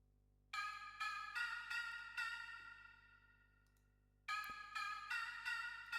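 A Korg M1 synth patch plays a background pad line with bright, bell-like repeated chords, faint and alone, fading out into a long gap before the same pattern returns.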